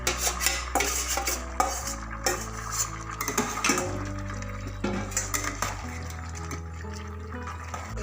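A ladle clanks and scrapes in a pot as fish head and potato curry is stirred into Gobindobhog rice, with repeated metallic knocks and wet, sloshing stirs close up and no talk.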